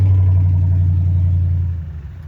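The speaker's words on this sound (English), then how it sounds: "apparently there's a truck that needs some exhaust work leaving here" A deep, loud truck engine drone with a heavy low exhaust note from a worn exhaust, steady at first and then fading as the truck pulls away.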